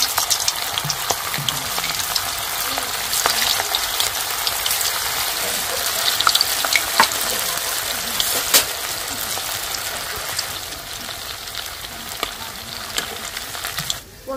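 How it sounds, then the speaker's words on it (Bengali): Cabbage vegetable balls deep-fry in hot oil in a wok, giving a loud, dense, continuous sizzle with scattered crackles and pops throughout. "আমি এবার একে একে সবজির বলগুলো ভেজে নিচ্ছি"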